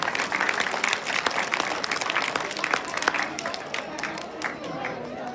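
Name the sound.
round of applause from gathering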